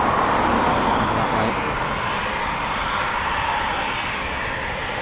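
A C-17 military transport jet flies overhead near RAF Coningsby, a steady broad roar that fades slightly as it passes, loud and continuous.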